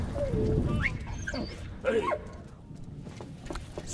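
A dog in the World War I video game Valiant Hearts whimpers and yips in short, high, wavering cries among game noises, with someone talking quietly over it.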